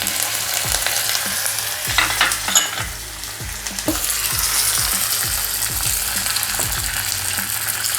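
Cumin, cashews, ginger and curry leaves crackle and sizzle in hot oil or ghee for rava pongal, with dense spattering pops and a spoon scraping and stirring the pan at close range.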